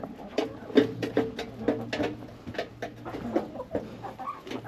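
Several chickens cluck in a coop on a snowy morning after a storm, a steady run of close, irregular clucks and short calls over a low constant hum.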